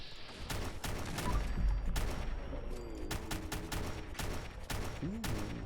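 Slowed-down 5.56 rifle fire from a service rifle in Fallout 4, heavy booming shots in a steady irregular string, loud and close, with echoing tails between them.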